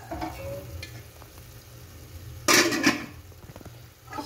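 Pancit noodles being stirred in a cooking pan, with soft scraping and sizzling that breaks into a sharp, loud burst of frying and clatter midway before easing back to quieter stirring, close and without talk.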